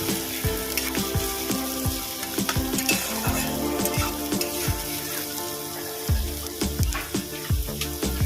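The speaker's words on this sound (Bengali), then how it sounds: "পেঁয়াজটা হালকা করে ভেজে নেব" Onions sizzle and crackle steadily in hot oil, with occasional stirring clatter from a pan close by.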